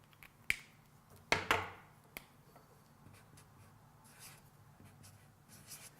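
A pen drawing a water molecule diagram while balancing a chemical equation, faint close scratches and a few sharp taps as the pen strikes and lifts off the surface, over quiet room tone.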